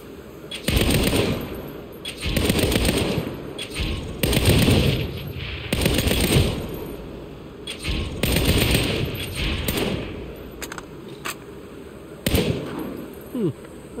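Gunfire in the Saints Row video game: several loud, sharp bursts of rapid shots separated by short gaps, with no voices.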